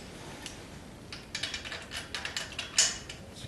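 A wrench tightens an alternator bracket bolt into the cast iron block of a 1976 Corvette, a series of quick ratcheting clicks and metallic ticks close by, growing busier toward the end with one sharper snap.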